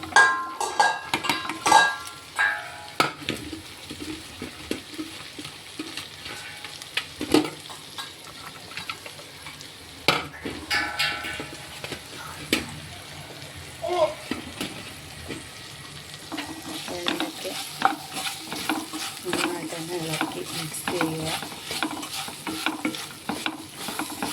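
Chopped okra stir-fried in a pan, a continuous close sizzle broken by frequent scraping and clinking of a utensil against the metal, with no talking.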